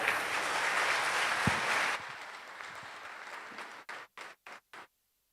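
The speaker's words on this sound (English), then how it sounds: "The big round of applause says it all." Applause from a conference audience, a dense round of clapping that thins out and ends in a few last scattered claps.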